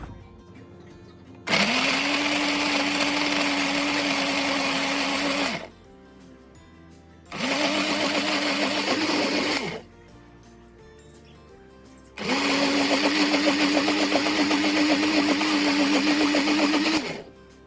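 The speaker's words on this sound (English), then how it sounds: "we're going to blend these seasoning to make our marinade for the pork" A kitchen blender whirs through seasoning and about half a cup of water to make a marinade for oven roast pork, running in three loud bursts of several seconds each with short quiet pauses between.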